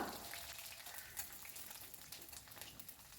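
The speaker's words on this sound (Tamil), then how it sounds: "ஒரு கடாயில் நல்லெண்ணெய் சேர்த்துக்கிடுவோம் சேர்த்துட்டு பூண்டு சேர்த்து நல்லா கோல்டன் கலர் நல்லா கோல்டன் கலராக வரணும் பச்சை இல்லாமல் வறுத்துக்கிறலாம்" Garlic frying in sesame oil in a kadai, a steady close sizzle with crackling hiss throughout, no voices.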